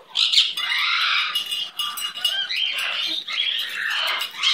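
Pet bird squawking and chirping close by in a run of shrill, scratchy calls that rise and dip for several seconds, with brief pauses between bursts.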